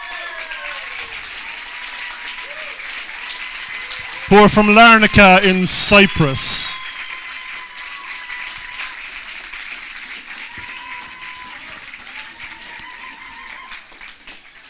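A crowd at a cultural tourism project event applauds the Sensory Bee Nature Trail team, steady clapping running under an announcer's voice, with a brief louder burst of voices and cheering in the middle.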